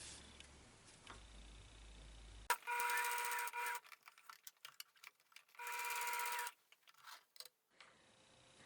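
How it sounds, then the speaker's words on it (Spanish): A sewing machine stitching the side seams of a fabric hanging kitchen towel holder runs in two close bursts of rapid mechanical whirring, separated by quieter clicks and handling of the fabric, with no talk. "vamos a hacer una costura de cada lado"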